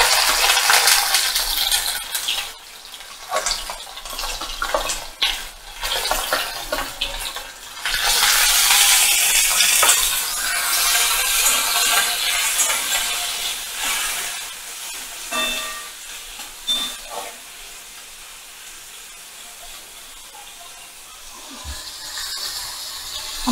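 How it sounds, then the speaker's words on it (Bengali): Large shrimp sizzle and hiss loudly after being dropped into hot oil for a pumpkin-shrimp dish, with bursts of spattering and stirring clatter that ease into a softer, steady fry. "তেলটা গরম হয়ে গেছে, এবার আমি চিংড়ি মাছগুলোকে তেলের মধ্যে দিয়ে দিলাম।"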